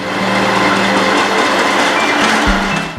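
A Norfolk Southern freight train with mid-train DPU locomotives, among them an AC44C6M and a worn Dash 9, rolls past close by as a loud, steady rumble of wagons and engine noise, with a low drone dropping away near the end.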